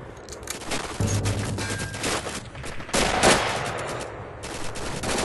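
Gunfire in a shooter video game: loud, dense automatic fire rattles in sustained volleys, with a brief lull before another heavy burst.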